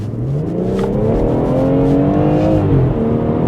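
A BMW M140i with an inline-six engine pulls hard under full acceleration. The loud engine note climbs steadily in pitch, eases briefly as if through a gear change, then keeps rising, close and continuous.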